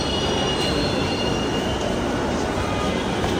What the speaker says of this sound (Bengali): ট্রেন চলে আসছে আমাদের।